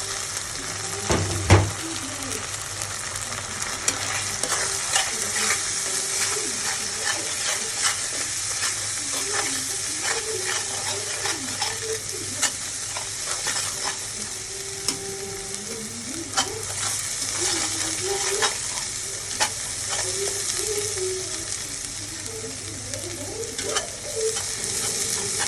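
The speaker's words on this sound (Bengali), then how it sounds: "মশলাটা কষে গেছে, এই যে তেল ছেড়ে দিয়েছে মশলা থেকে।" Turmeric, salt and chili powder fry in hot oil while being stirred, a continuous close sizzle broken by scraping stirs and occasional clinks of the utensil against the pan.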